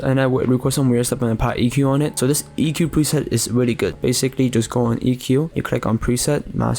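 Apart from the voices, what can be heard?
No everyday noises stand out.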